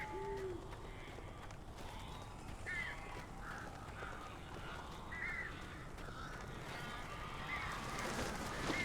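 Several crows caw repeatedly at a distance over a low ambient rumble in the Alan Wake video game, their harsh calls scattered across the scene.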